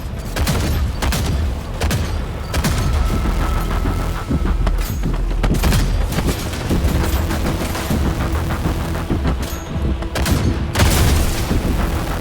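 Tank weapons fire repeatedly at enemies in a video game, a dense barrage of sharp booms and rapid bursts over a low engine rumble, loud and nearly continuous for the whole stretch.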